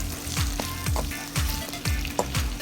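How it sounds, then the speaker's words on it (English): Diced onion sautés in a little oil, a close, continuous sizzle punctuated by rhythmic spatula scrapes and stirs about twice a second. "Add my diced onion. I'm going to saute it for like 2 minutes until it becomes translucent."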